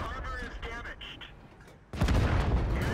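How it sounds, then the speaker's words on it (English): Gunfire in a video game, a couple of heavy shots with a loud sustained blast in the second half, mixed with game noise and a voice talking over it. "Okay, you got 2 shots."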